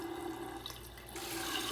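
A hotel bathroom tap runs steadily while someone brushes their teeth, a quiet continuous stream of water whose flow shifts slightly, with no talking.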